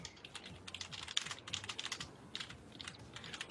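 Quick, uneven keystrokes on a computer keyboard, close and crisp, with small pauses between short bursts of tapping and no talking.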